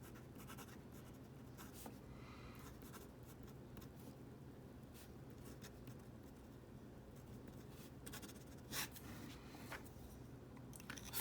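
A Lamy CP1 fountain pen with a Fine nib writes on paper, giving a continuous faint, close scratching with short bursts of stroke noise and no talking.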